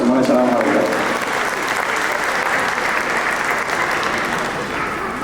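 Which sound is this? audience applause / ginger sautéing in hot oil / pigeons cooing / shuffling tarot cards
audience applause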